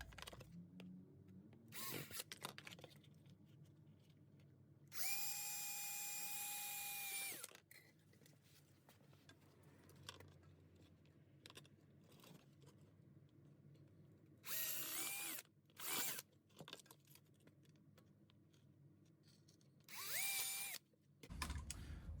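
A power drill bores holes to mount Porsche 997 Turbo rear brake cooling ducts on a Boxster or Cayman, with several loud, close whining bursts of a few seconds each separated by quiet handling noises.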